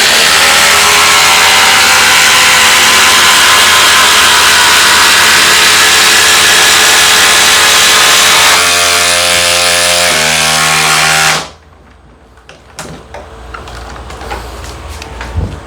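A cordless impact driver drives a 3/8 by 8 inch lag screw with a 9/16 socket into wood without a pilot hole, a loud continuous whirring hammer that changes pitch near the end, then stops abruptly, leaving quiet handling noises.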